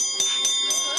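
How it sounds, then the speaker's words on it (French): A bell is struck repeatedly during an animal counting exercise with keepers, four bright ringing strikes evenly spaced about a quarter second apart, close and clear with sustained metallic tones. "L'exercice de la cloche avec Woody"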